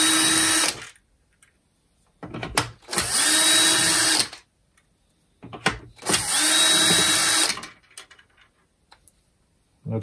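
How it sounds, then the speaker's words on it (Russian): A power tool backs self-tapping screws out of a Makita DCF203 impact driver under repair, in several loud, close bursts of whirring and rattling of about a second or two, separated by quiet pauses. "открутили 4 самореза"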